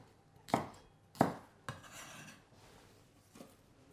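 Spring onion chopped into chunks on a cutting board: three sharp knife thuds in quick succession, then a softer fourth blow after a pause, close with light rustling between.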